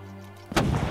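A single booming cannon shot in the VR game The Tower lands suddenly about halfway through, preceded by a low steady hum and followed by a rumbling, noisy tail.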